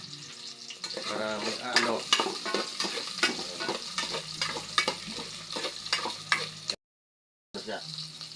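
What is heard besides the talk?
ginger being stirred and fried in a pan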